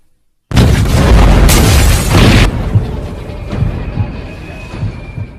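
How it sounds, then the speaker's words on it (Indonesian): A sudden, heavy bomb blast from the film Wanted (2008) erupts, a loud booming roar that rumbles for a couple of seconds before trailing off into debris and lingering noise. "bom pun meledak dan berhasil memporak-porandakan tempat tersebut"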